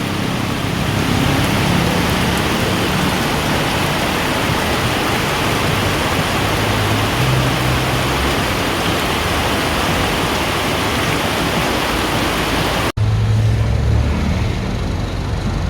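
Heavy, steady monsoon downpour roaring continuously, a dense wash of rain noise with a brief break near the end before it resumes just as strong.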